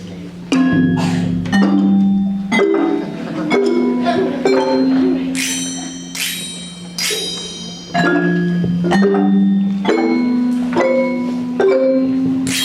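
The duck theme from Peter and the Wolf sounds as a run of distinct melodic notes, each starting sharply and ringing briefly, repeated in phrases over about twelve seconds with faint voices in the background.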